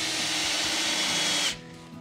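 Power drill on a Billy Goat broadfork assembly, driving offset screws into holes; a steady loud whir runs for about a second and a half, then cuts off abruptly, leaving a quiet room.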